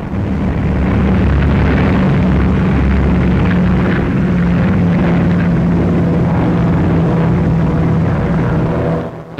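Boston bombers flying in formation low over the water give a loud, continuous roar of piston engines and propellers, a steady dense drone that fills the whole stretch without pause.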